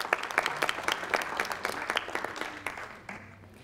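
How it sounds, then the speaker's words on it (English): An audience at a Native veterans gathering applauds to thank military veterans, a burst of many hands clapping together that holds steady and then gradually fades out toward the end. "If we could give them a round of applause,"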